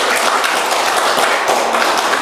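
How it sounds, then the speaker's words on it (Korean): A church congregation claps together in a dense, continuous wash of applause, loud and close throughout, with no voices standing out. "주님께 영광의 박수 올리세요"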